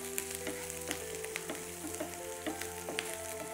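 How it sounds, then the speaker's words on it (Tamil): Onions with ginger and garlic sautéing in a salted pan make a steady close sizzle, with soft stirring scrapes and clicks breaking through now and then. "ஏன்னா சீக்கிரமாக நமக்கு வெங்காயம் நல்லா வதங்கிடும்."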